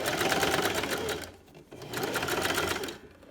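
A sewing machine runs a zigzag stitch on a 0-3 month baby sleeper, two loud, steady bursts of rapid mechanical stitching separated by a short pause, with faint background noise.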